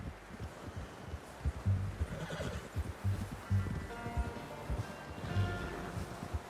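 A horse whinnies close by in Red Dead Redemption 2 while hooves clip-clop steadily, with a few faint rustles.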